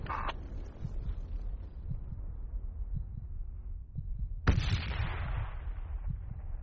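Gunfire in the video game FUBAR: a burst of sharp cracks at the start, then a loud blast about two-thirds through that trails off into rumbling echoes, over steady low battlefield noise.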